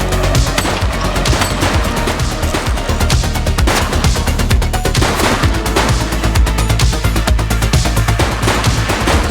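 Dense, loud gunfire from the police video game The Precinct, rapid bursts and shots overlapping continuously with game sound, no speech.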